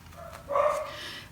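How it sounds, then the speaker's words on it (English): Dogs bark indoors in a single short, yelping bark, fairly faint and slightly distant, with quiet room noise around it. "sorry about the barking dogs"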